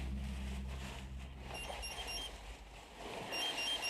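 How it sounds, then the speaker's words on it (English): A handheld gas monitor in a tunnel gives a methane alarm, a series of short, high electronic beeps repeating in a quick pattern over low rumbling background noise. "And then his gas monitor beeps."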